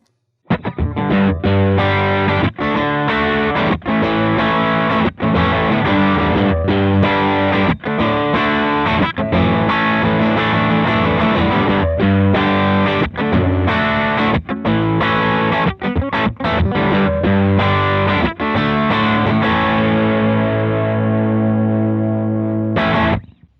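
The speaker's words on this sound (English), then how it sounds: "It's basically a distortion pedal." An electric guitar through a Tom'sLine Michael Angelo Batio vintage overdrive distortion pedal plays heavily distorted chords and riffs, loud and saturated with sustained ringing notes, fading at the end.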